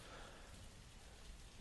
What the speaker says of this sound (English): God, it rains a lot in this place.